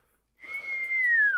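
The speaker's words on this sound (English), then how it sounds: "that whistle? That's amazing." A single clear whistled tone, steady and then gently falling in pitch, lasting about a second, close and alone with no talk.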